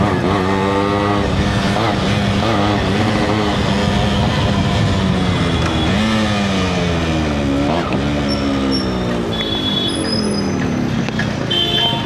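A Yamaha RX100 100cc two-stroke motorcycle revs and rises through the gears on a ride in Bangalore, its engine note sweeping up and dropping repeatedly, loud and close throughout.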